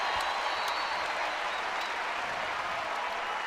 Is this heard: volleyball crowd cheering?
yes